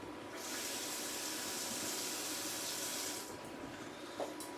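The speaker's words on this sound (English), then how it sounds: "you just put a little bit of water in there and wash it out" Running tap water poured into a jar of passata to rinse it out, a steady broadband splashing gush for about three seconds that then eases off, alone with no talk.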